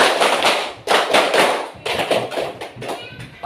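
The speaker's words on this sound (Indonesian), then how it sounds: "Kita sama-sama setelah tepuk tangan 3 kali." A class of students clapping hands together in uneven bursts, several sharp group claps and taps separated by short pauses, close and fairly loud.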